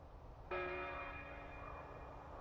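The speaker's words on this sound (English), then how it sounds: "a church bell." A single church bell in the video game Hello Neighbor strikes once, ringing out with a bright metallic tone that lingers and slowly fades over a couple of seconds.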